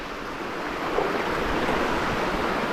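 Rushing water pours down a waterfall and mountain stream on the Devil's Ladder scramble of Carrauntoohil, a dense, steady roar close to the listener on a dark, rainy December night.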